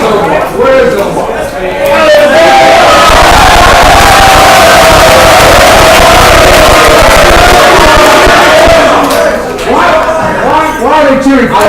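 A large crowd at an evening assembly erupts in loud cheering and whooping for a man named Omar, a dense sustained roar that swells, holds, then breaks into scattered shouts.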